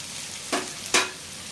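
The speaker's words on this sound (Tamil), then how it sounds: "இப்போது இந்த காய்கறி வதக்கி வச்சு கட் பண்ணி வச்சுக்கிற காய்கறி எல்லாத்தையும் அதில் போட்டு இப்போது வரட்டுங்க" Vegetables stir-fry in a pan for fried rice, a soft steady sizzle broken by two sharp, close scraping tosses of the spatula.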